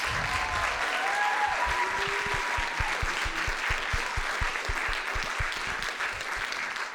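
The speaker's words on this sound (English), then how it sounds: "Let's go ahead and give these amazing group of students one more round of applause." A sustained round of applause from an audience for a group of students at a teen speaking event, steady and full, with a few whoops and faint voices in the crowd.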